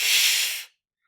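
A person's voice imitates a cat's hiss: one sharp, breathy hiss lasting about half a second, then silence.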